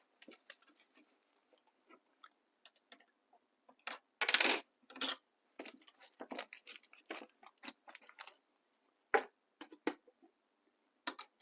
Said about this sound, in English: So I'm just switching out to my zipper foot